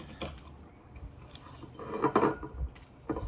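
A blade cutting the foil capsule from the neck of an old wine bottle, with close scraping, crinkling and light metallic clicks in short irregular bursts, louder near the end.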